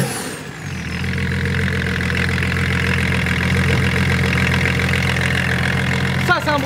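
BMW with a TDS diesel engine idling: a steady, close, low rumbling drone with a constant rough diesel clatter, holding even throughout with a small knock near the end.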